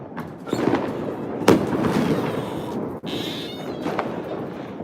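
New Year's Eve fireworks exploding close by, a dense continuous crackle and booming bursts with one sharp loud bang near the middle, heard loud and near with no talk.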